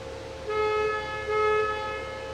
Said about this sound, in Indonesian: Kemudian ada klakson yang disebut sebagai toot.